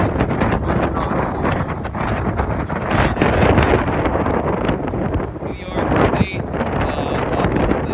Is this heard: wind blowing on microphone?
yes